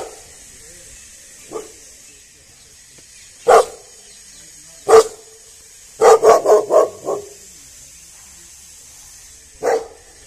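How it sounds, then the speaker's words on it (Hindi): A large dog in a garden with pomegranate and chikoo trees barks loudly and close, with isolated single barks and then a quick burst of five in a row, over a faint steady background hiss. "ये देखो भाई डॉगी कितना"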